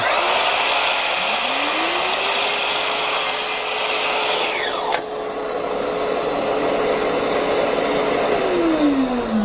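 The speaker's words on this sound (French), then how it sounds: "Tu lances ta lame, tu pousses ton bois à mac." Power saw blade cutting through wood on a building site while fitting doors and a retractable attic staircase, the motor whining up to a steady tone, holding through a long cut for several seconds, then winding down; loud and close.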